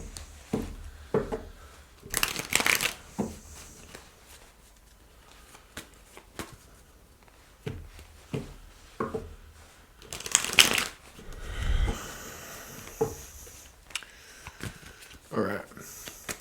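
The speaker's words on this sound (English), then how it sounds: "Let's go do a quick shuffle, sorry." A deck of tarot cards is shuffled close to the microphone in several short bursts of riffling and slapping, with quieter pauses between them and a little talk mixed in.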